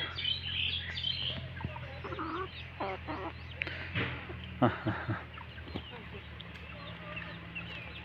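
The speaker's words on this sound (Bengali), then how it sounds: "এই পাখিটা আমার অনেক শখের পাখি" A pet myna bird calls in a run of short chirps and clucking whistles, fairly close, while a person talks nearby.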